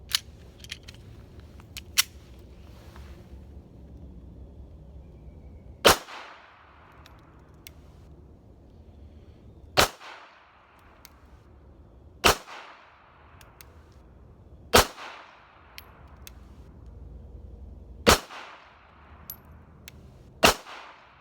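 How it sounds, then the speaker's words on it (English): Six sharp gunshots from a Ruger LCP2 .380 pistol crack out at irregular intervals of a few seconds, outdoors in cold weather, each loud and distinct over a low background rumble. "I've got the LCP2 here, and I'm gonna put a magazine through it and see how it shoots"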